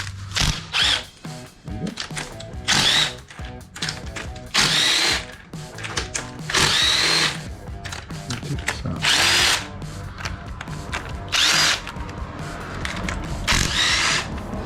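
A power tool, likely an impact driver, backs out 10mm and 15mm socket head bolts from the cylinder heads of a 1968 Camaro SS engine, firing in loud repeated bursts of roughly a second each, with brief pauses and a voice speaking between them.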